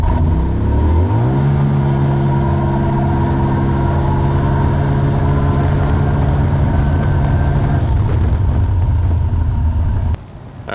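A vehicle on an Aftermarket Assassins stage 3 tune (93 octane) rises in pitch as it pulls hard through a gear, then holds a loud, sustained engine roar before cutting off abruptly near the end.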